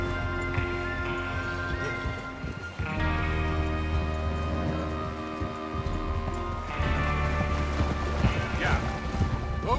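Horses riding out in the video game Red Dead Redemption 2, a rhythmic clip-clop of hooves and tack rattling beneath a sustained musical score, with brief speech.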